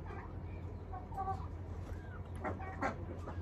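A rooster on a farm gives a few soft, close clucks over a steady low background hum, with short bursts of sound scattered through the moment.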